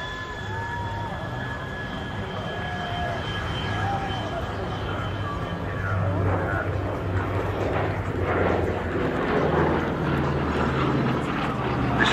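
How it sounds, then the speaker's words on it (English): A WWII heritage bomber that served with the RAAF flies past during a formation flypast at Williamtown, Australia. The low propeller engine drone swells from far to near, and a commentator talks over it. "This aircraft actually flew with the RAAF during the Second World War"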